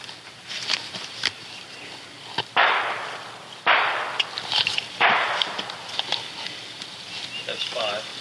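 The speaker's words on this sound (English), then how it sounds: "Oh, that's another gunshot." Gunshots going off outdoors at a street corner, several sharp distant cracks spread over a few seconds, heard under steady background noise and people talking.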